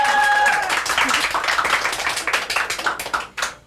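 Family members clap and cheer together at a home singing contest, with a dense, lively burst of applause and voices that thins into scattered claps near the end.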